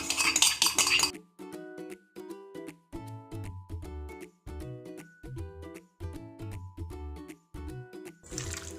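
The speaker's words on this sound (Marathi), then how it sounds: "1 अंड मी फेटून घेतले आणि ते आता ह्याच्यामध्ये आपल्याला मिक्स करायचं" A utensil scrapes and clinks rhythmically against a metal bowl, about twice a second, while beaten egg is mixed into marinated chicken pieces for fried chicken.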